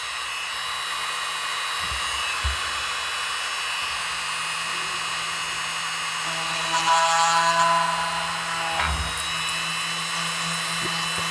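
A power drill whines steadily while boring into a plastic 1:1400 scale model kit of the starship U.S.S. Enterprise NCC-1701-C, holding a constant tone with a brief louder surge partway through and a few soft handling knocks.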